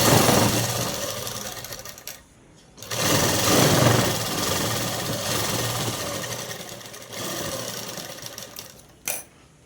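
A sewing machine stitches cloth with an umbrella-cut garment, running in loud continuous bursts with two brief pauses, close and steady, with no talk.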